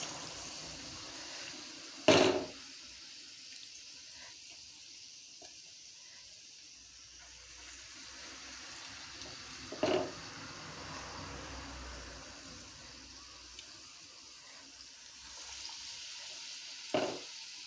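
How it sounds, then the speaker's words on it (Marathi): Vadas of batter dropped one by one into hot oil for kat vada, each drop bringing a sharp sizzling burst over a steady, soft frying hiss, three bursts spaced several seconds apart. "तेल आपलं तापलेलं आहे. तर आता मी याच्यामध्ये वडे सोडणार आहे."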